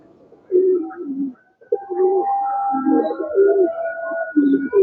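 A female Kaldom pigeon coos close by in a series of soft, throaty, rolling calls, with brief pauses between them.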